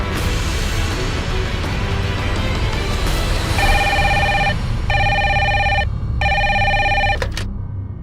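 A telephone bell rings in repeated bursts over a steady background of music or ambience, loud and close, in a Hindi crime drama scene.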